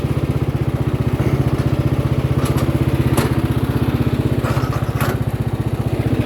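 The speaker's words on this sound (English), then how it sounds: "Mostly just putt around on the four-wheelers." A four-wheeler ATV fitted with ag tires putts along, its small engine thrumming in a steady, fast pulsing rhythm, close and loud, with a few brief higher-pitched rattles over it and no talk.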